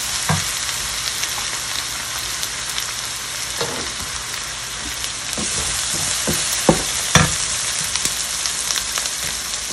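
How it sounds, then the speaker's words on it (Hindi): Ingredients for dal chana karela salan sizzle and fry steadily in a hot pan, with occasional stirring scrapes and clinks over the continuous loud crackle, close up and with no talking. "फ्यू सेकंड्स के लिए इनको करेंगे फ्राई।"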